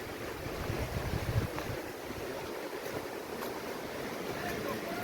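The large Chikhaldhra waterfall in Amravati, heard as a broad, steady roar of rushing water with wind buffeting the microphone, while people talk nearby.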